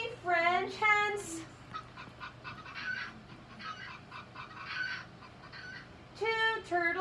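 Bursts of clucking and honking fowl calls at the start and end, with quieter chattering bird sounds in between over a low steady hum.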